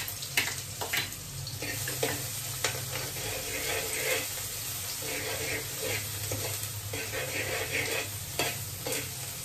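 Oil sizzling and spattering in a pan while oats are cooked, with steady broadband frying and repeated scraping stirs throughout, close and fairly loud.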